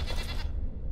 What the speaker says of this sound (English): There is a goat.